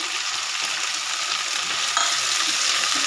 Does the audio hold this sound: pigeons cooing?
no